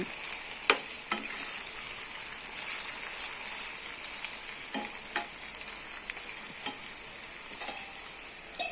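Ivy gourd curry softening in a covered pan gives a steady, close sizzling hiss, broken by a few sharp scrapes and knocks as the pieces are stirred, with no voices.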